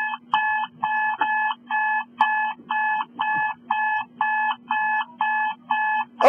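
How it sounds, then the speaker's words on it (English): An alarm clock rings in a steady repeating pattern of electronic beeping bursts, about a dozen evenly spaced pulses separated by short gaps, loud and close with no talking. "I hate an alarm clock."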